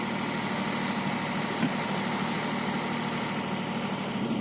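Subaru car engine at an off-road motorsport training session, a steady broadband drone with low rumble holding constant throughout, with no speech over it.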